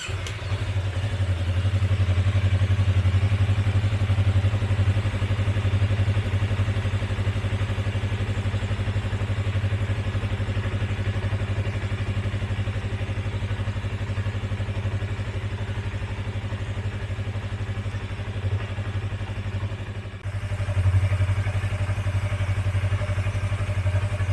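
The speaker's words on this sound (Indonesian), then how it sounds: "kita tes lagi, kita nyalain motor ya, kita nyalain" A Yamaha MT25/R25 motorcycle engine running at a steady low idle, a close, loud, even throb that continues throughout, with a brief dip and thump near the end and no talking.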